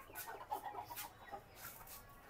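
Chickens on a Bangladeshi poultry farm cluck and squawk in short, faint bursts, with a few separate calls over quiet barn background.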